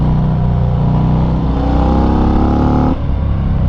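A 2019 Harley-Davidson FXDR 114 with a 240 rear tire drives uphill out of a corner, its V-twin engine pulling hard in a loud, steady throaty drone that climbs in pitch, then a brief dip as it shifts, heard close from the rider's position.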